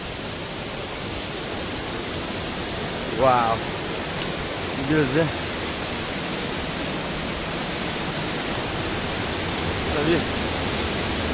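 A steady waterfall in the Nagaland hills roars as a constant broadband rush, with a few brief voices calling out over it.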